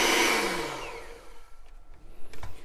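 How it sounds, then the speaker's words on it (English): An electric mixer beating red velvet banana cupcake batter, a loud whirring whine that winds down over a couple of seconds, followed by faint clatter and handling sounds. "I'm done with the mixer."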